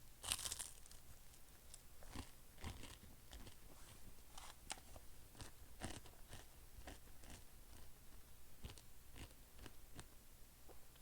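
Crunchy pepperoni pizza being bitten and chewed close up, a sharp bite followed by a steady series of crisp crunching chews over about eleven seconds, with no talking.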